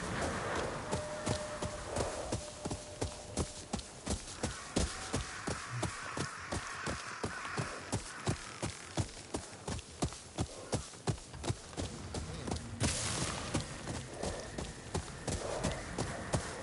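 Horse hooves in Ghost of Yotei clatter in a steady, fast galloping rhythm throughout as the rider travels, with occasional crow caws and ambient game sounds layered underneath.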